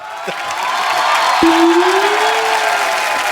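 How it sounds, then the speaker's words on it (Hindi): Studio audience at a Hindi comedy talk show breaks into steady applause with some cheering, a dense wash of clapping filling the whole moment, with a brief rising whistle-like tone partway through. "तालियां"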